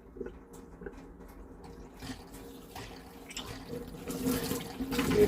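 A hot water tap opened slightly runs in a steady trickling splash that grows louder and fuller over a few seconds, heard close up with no talking.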